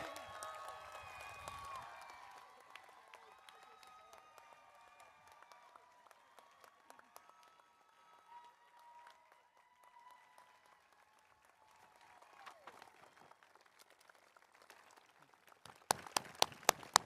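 Graduation commencement audience at The Bay School of San Francisco applauding, a dense wash of clapping that starts fuller, thins to a scattered patter through the middle, then swells again with a few sharp loud claps at the end.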